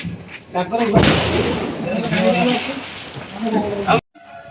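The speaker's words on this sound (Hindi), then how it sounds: "कौन लगाउछ केतरी बम एटा सुशील बाबू केतरी बम एटा" A single loud Diwali firecracker bomb goes off nearby with a sharp, booming bang, followed by people talking outdoors until the sound cuts off abruptly.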